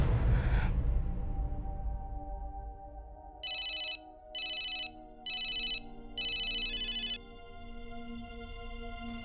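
A telephone rings back while a call is being placed in a Hindi TV drama. After a short thud, four evenly spaced electronic ring bursts sound, the last one slightly longer, over a sustained musical drone with no talking.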